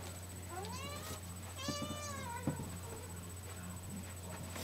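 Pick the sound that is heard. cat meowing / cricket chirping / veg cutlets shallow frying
cat meowing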